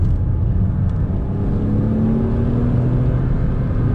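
A Porsche Boxster S engine drones steadily on a race circuit, a loud in-car hum with the pitch rising gradually as the car accelerates.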